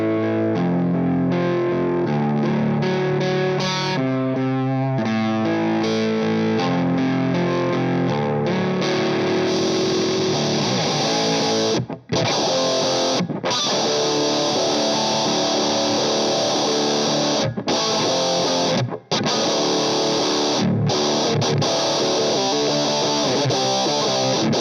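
An electric guitar played through an EHX fuzz pedal gives thick, saturated distorted riffs and sustained chords, loud and continuous with a couple of brief stops, no talking.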